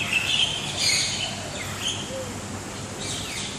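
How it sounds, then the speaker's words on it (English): Birds chirping and calling at Jurong Bird Park, a steady high twittering spread across a busy outdoor trail, fairly faint under broad background noise with no clear talk. "These are the birds we get to see."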